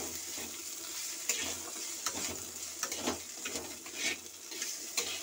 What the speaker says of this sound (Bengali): পেঁয়াজটা দিয়ে আমি ভেজে নিচ্ছি